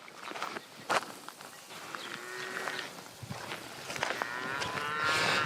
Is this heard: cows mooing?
yes